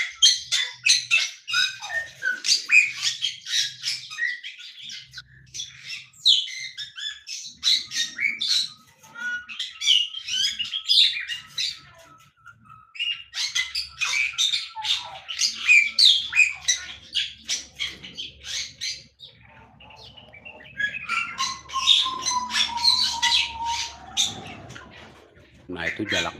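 Bali starlings in an aviary give loud, repeated squawks and shrill chattering calls in bursts through most of the stretch, with some low background rumble and other bird calls mixed in.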